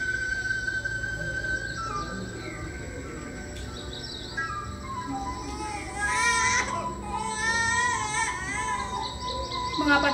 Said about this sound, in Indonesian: Mengapa ada suara tangisan bayi di sini?